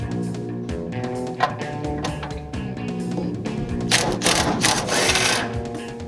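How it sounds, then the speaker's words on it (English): A powered tool whirs and rattles in continuous bursts to remove the ball joint nuts on the front suspension of a 1965 Mustang, with a short metallic knock near the start and a louder buzzing spell toward the end. "we're going to disconnect the spindle from the upper and lower control arm by removing the nuts on the ball joints"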